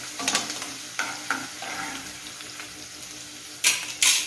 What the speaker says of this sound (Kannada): ಹಸಿ ವಾಸನೆ ಹೋಗುವವರೆಗೆ ನಾವು ಇದನ್ನು ಹುರ್ಕೊಳ್ಬೇಕು ಎಣ್ಣೆಯಲ್ಲಿ.